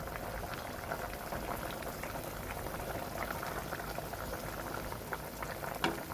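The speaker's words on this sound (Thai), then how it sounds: "ตอนนี้เราก็ต้มสุกเรียบร้อยแล้วนะคะ" A pot of bamboo shoot soup with tender pork bones boils steadily, its dense bubbling and liquid churning continuous and close throughout, with no one speaking.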